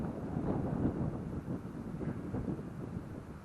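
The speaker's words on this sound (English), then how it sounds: "it's windy outside" Wind buffets the microphone in continuous low, gusty rumbles, steady throughout with no voices.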